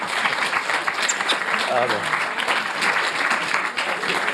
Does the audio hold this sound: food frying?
no